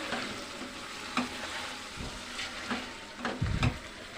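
Egg and potato curry stirred in a pan with a few soft scrapes and knocks over a low sizzle, fairly faint and without talk.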